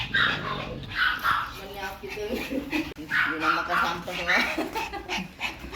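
A Pomeranian dog yips, whimpers and barks in short bursts close by while people talk over it throughout.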